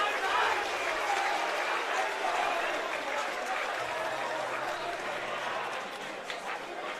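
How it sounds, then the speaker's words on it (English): A rugby crowd at a University of Queensland versus Easts match roars in a steady, broad wash of noise as the students take the field, holding level throughout with a commentator's voice running over it. "you can hear the crowd is absolutely G'd up for this one as the students take to the field"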